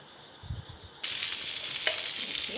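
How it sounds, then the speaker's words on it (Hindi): Hot oil tempering of mustard seeds, cumin and curry leaves poured into coconut chutney bursts into a loud, steady sizzle after a quiet start, hissing continuously up close. "ये तड़का हमने चटनी में डाल दिया है, राई, जीरा और करी पत्ता डाल के"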